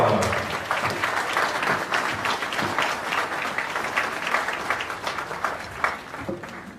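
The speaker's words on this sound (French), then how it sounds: "Elle est là, on l'applaudit bien fort." An audience gives sustained, fairly dense applause to welcome a chikha singer onstage, the clapping steady and moderately loud with a few voices mixed in.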